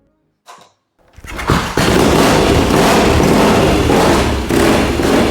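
A Triumph Bonneville Desert Sled motorcycle engine cranks with a brief thump, then fires and roars into a loud, steady, close idle with a crackling exhaust.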